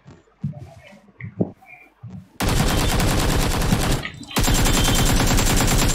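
Heavy automatic gunfire with strong recoil in the shooter game PUBG Lite, sounding as two long, loud, dense bursts of rapid shots split by a brief pause, after a quieter stretch of scattered game noises.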